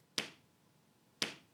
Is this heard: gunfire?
no